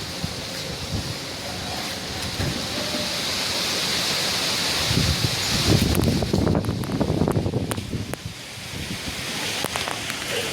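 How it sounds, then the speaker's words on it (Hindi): Wind blows outdoors in Delhi after days of heat, a steady broad rushing roar that swells louder midway with buffeting gusts against the microphone, no voices over it. "तो आपने देखा इस तरह से हवा चल रही है अभी"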